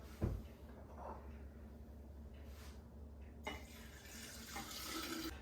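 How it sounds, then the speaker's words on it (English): Water pours into a jar of chopped almonds, a quart added to soak them for falernum syrup; a steady close rushing splash that grows louder and fuller over the second half, with no talking. "And we're going to add another quart of water."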